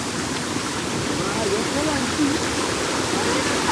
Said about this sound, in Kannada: ಈ ಚಳಿಗಾಲದಲ್ಲಿ, ಈ ಮಳೆಗಾಲದಲ್ಲಿ ಈ ಥರ ನೀರು ಸ್ಟ್ರೀಮು.